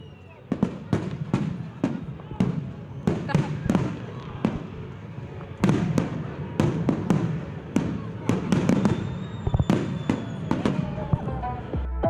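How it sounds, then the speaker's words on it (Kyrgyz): Fireworks burst at a crowded celebration on Ala-Too Square, with sharp bangs and crackles firing in rapid irregular succession over a constant hum of crowd noise. "Арткы фондо салют атылып, майрамдык маанай башталды."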